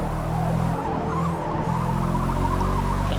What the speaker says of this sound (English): You can hear my wheels just squealing.